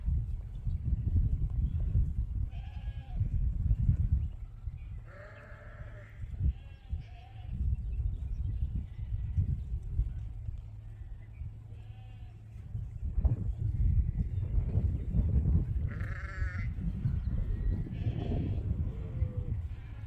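Suffolk sheep bleat out in a grassy field, several calls near and far over windy outdoor rumble, with occasional talk in between.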